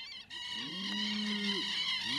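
A cow lows in a long, drawn-out moo on a farm field in southern Chile near Temuco, rising and falling over about a second, with birds chirping steadily in the background.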